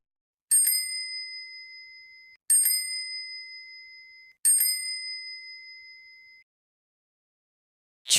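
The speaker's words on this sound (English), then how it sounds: "bicycle" A bicycle bell rings three times at steady intervals, each bright ding ringing out and fading slowly before the next strike, heard alone and fairly close.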